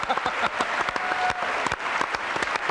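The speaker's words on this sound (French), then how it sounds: "Applaudissements pour Bruno" A television studio audience breaks into brisk, close applause for a guest named Bruno, dense sharp claps running continuously and fairly loud.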